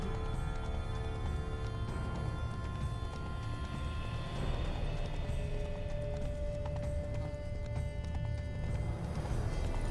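Horses gallop with a constant drumming clip-clop of hooves, joined by a loud whinny, all dense and continuous up close, in the video game The Witcher 3: Wild Hunt.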